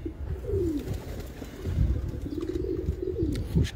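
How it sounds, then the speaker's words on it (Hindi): A high flyer pigeon coos in soft, low repeated phrases at close range, with faint background rustle and occasional light chirps around it. "ये उड़ रहा है कबूतर"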